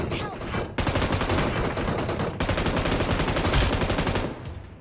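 Rapid bursts of gunfire in PUBG Mobile crackle loudly and almost continuously, with a brief gap before another dense stretch of shots.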